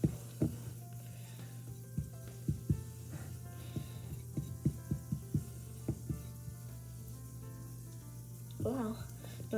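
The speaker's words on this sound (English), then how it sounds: "And now we're gonna mix it all together." Pie ingredients being stirred together in a bowl, heard as uneven rhythmic clicks and scrapes of a utensil against the bowl, close by, with a low steady hum beneath and a voice briefly at the end.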